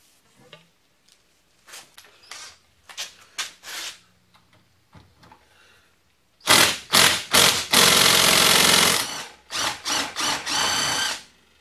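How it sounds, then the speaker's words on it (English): A power tool works a bolt out of the end of a bicycle fork in short bursts, first a series of quiet stuttering hits, then louder closer rattling runs including one sustained burst of several seconds. "Next thing we got to do is get this bolt out of the end here."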